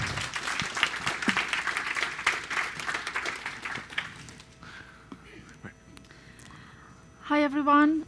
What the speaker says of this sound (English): please give a round of applause for our speakers, Robbie and Zara